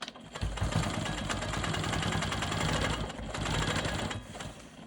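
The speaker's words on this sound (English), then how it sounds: "Okay, so I'm gonna stabilize this triangle by stitching in the ditch." A Quilt Maker Pro 20 long-arm sewing machine stitches in the ditch on a quilt block, a steady, close, rapid mechanical whir with brief slowdowns, without any speech.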